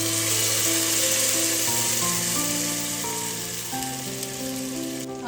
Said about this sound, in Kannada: ಮೂರಿಂದ 4 ನಿಮಿಷ ನಾನು ತರಕಾರಿನ ಫ್ರೈ ಮಾಡ್ಕೊಂಡಿದ್ದಾದ್ಮೇಲೆ ನಾನಿಲ್ಲಿ ರುಬ್ಕೊಂಡಿರೋಂಥ ಮಸಾಲಾನ ಹಾಕೊಳ್ತಾ ಇದ್ದೀನಿ